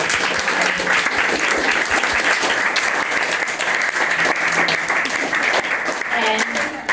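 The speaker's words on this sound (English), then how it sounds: "Can we have a round of applause for Anna, who really did all the organisation?" A dinner crowd celebrating World Vegan Day claps for the evening's organiser: dense, steady applause fills the room for the full stretch, with a few voices talking underneath near the end.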